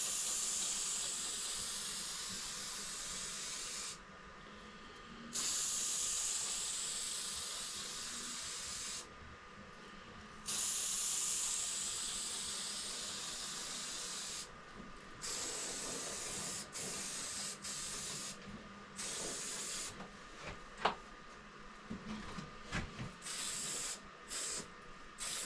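A spray gun lays a coat of paint on a race car body panel during repair work, long loud hissing bursts broken by short pauses, then quicker stop-start sprays, close and continuous with no talk.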